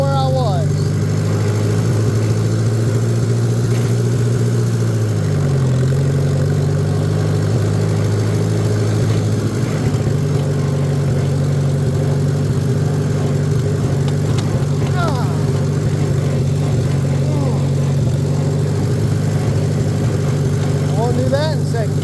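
Engine running under throttle while in gear, a steady loud droning hum that holds nearly constant with a brief dip in pitch, and a voice speaking over it at times.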